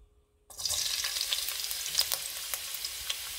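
After a brief silence, ginger hits a hot pan on the stove and breaks into a bright, steady sizzle with small crackles as it is stirred.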